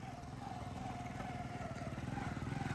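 A motorcycle carrying bags of cement at a house construction site idles and putters close by with a steady, throbbing engine pulse, running continuously and fairly loud with no voices over it.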